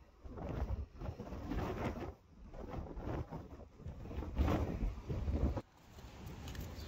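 Strong gusty wind roars and buffets the microphone, with heavy low rumbling surges that rise and drop abruptly throughout.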